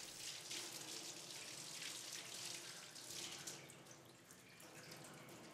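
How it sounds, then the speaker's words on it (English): Warm water runs steadily from a tap during handwashing with soap, a continuous splashing hiss that eases slightly toward the end, with no voices. "wash hands with soap and warm water for at least 20 seconds and rinse"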